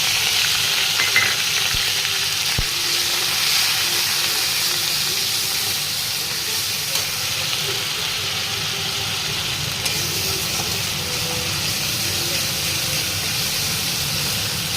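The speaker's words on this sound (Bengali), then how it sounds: "আমার মশলাটা মোটামুটি ভাজা হয়ে গেছে" A ground onion, ginger and garlic paste fries in a pan with caramelized sugar for a Bengali doi katla dish, giving a continuous close sizzle and hiss with faint stirring clicks and no voices.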